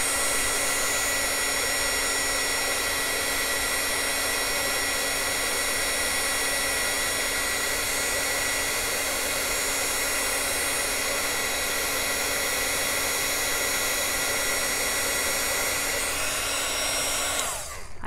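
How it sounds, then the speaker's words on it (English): A craft heat tool drying Brusho ink on stamped paper gives a loud, steady blowing roar with a high fan whine, unbroken for the whole stretch and stopping just at the end. "I'm just going to use my heat tool here"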